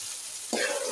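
Eggplant bharta masala with green chillies frying in a pan, a steady oily sizzle that jumps louder halfway through as more goes in, close and continuous with no talking.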